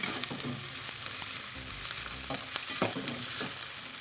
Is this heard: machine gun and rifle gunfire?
no